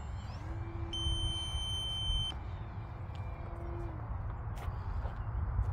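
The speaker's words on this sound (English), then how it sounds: "And my timer's up." Electronic beeping of a flight timer on an E-flite Hawker Hurricane RC plane transmitter at a runway, a steady high tone repeating over about a second, heard against constant wind and outdoor noise.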